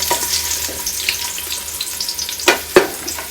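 Chopped onion frying in coconut oil in a pan for Mangalore-style crab sukka, a steady close sizzle with a couple of sharper stirring scrapes near the end.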